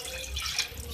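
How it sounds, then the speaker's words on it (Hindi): Half a glass of water is poured into a pot of dhaba-style beef stew cooking with yogurt, giving a brief continuous splashing pour with no talking. "अब इसके अंदर मैं हाफ गिलास पानी ऐड"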